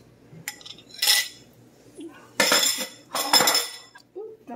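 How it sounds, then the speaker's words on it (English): Spoon or utensil scraping and clattering against a bowl while potato pancake batter with egg is mixed, in a few loud bursts separated by short pauses, close up with no talk. "Thoroughly mix everything, incorporate it all together, make it all nice and blended"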